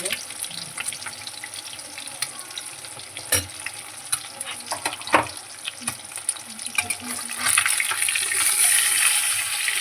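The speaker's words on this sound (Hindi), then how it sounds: "मासे फ्राय होऊन होत आले" Fish marinated with lemon juice fries in hot oil, giving a steady crackling sizzle with occasional sharp clinks and stirring sounds that grow louder and denser toward the end.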